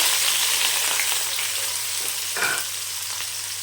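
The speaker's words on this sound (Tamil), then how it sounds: "கருவேப்பிலை போட்டுக்கலாம். சின்ன வெங்காயம் சேர்த்துக்கலாம்" Curry leaves and small shallots fry in hot oil for a mutton fry, a steady dense sizzle with a brief louder crackling burst near the end as more goes into the pan, no voices.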